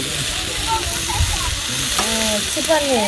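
Charchari vegetable dish frying in a pan in a village kitchen, a continuous close sizzle with voices talking over it.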